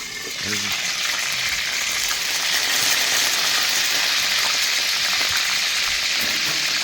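Hamburger patties fry in a pan with a loud, dense, steady sizzle like hissing rain that swells slightly and then holds constant up close.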